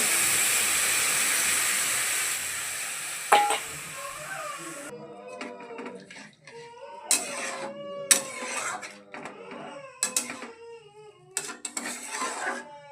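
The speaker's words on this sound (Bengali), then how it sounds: "দিয়ে দিচ্ছি জল।" Water poured into a hot old pan with turmeric for spicy suji, a strong hissing burst of steam that fades, followed by bubbling pops and squeaky gurgles at close range.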